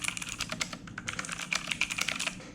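Rapid, steady keystrokes on a 6T 60% mechanical keyboard, clicking and clacking up close with no talk and a few louder key hits scattered through.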